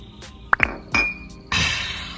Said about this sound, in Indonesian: kita seruput kopi dulu